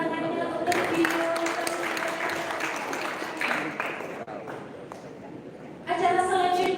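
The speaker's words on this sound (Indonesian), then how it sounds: "Boleh tepuk tangannya untuk video." Audience applause at an inauguration ceremony and national webinar, a steady wash of clapping that runs for several seconds, dips, then swells again near the end, with voices mixed in.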